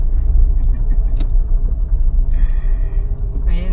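Suzuki Jimny off-road vehicles driving past at a mountain camp in Sitio Tangal, Zambales, a steady low engine and tyre rumble close by with brief faint sounds on top.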